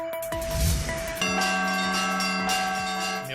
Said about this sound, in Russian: Лучших мастеров страны на фестивале «Алексеевские перезвоны» услышал Рамиль Галиуллин.